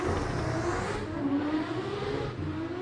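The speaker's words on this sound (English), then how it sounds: "Something monstrous just took off next to us, Arnie." Nissan-powered hillclimb race car pulling away hard on a hillclimb course, its engine heard from nearby as a revving, rising roar that fades off through the gears.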